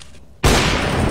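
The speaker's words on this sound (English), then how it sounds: "Flashbang. Flashbang." A flashbang grenade detonates in Counter-Strike: Global Offensive, a single loud sudden burst that cuts in abruptly and sustains as a bright, wide noisy roar after a quiet lead-in.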